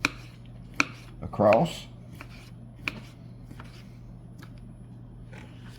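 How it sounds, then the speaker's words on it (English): A knife cuts through orange segments on a board, trimming the ends and slicing them for a fish fry side, with a few sharp close taps and one brief rustling cut amid a quiet background hum. "Now we're going to take our orange segments, cut the ends off of them, and slice them"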